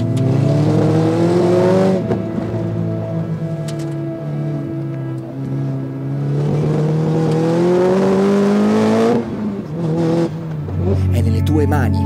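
Lotus Exige S GT Special Edition mid-mounted engine while driving, a loud close drone that climbs steadily in pitch through the gears, dips at shifts and rises again, with a voice speaking briefly.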